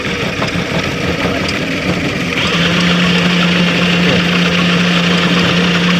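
The engine of a student-built hybrid bike runs steadily and loudly nearby, settling into a constant hum with a sustained tone after it starts, with no talk over it.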